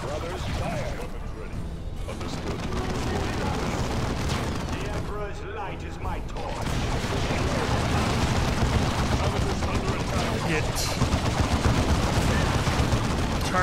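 Space Marine squads in Dawn of War II open fire, producing sustained bursts of gunfire and heavy booms that build and grow louder, with someone talking over much of the battle.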